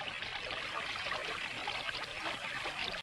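Stream in a scene from the 1957 film The Mysterians, trickling and burbling as a steady, fairly faint wash of water with no voices.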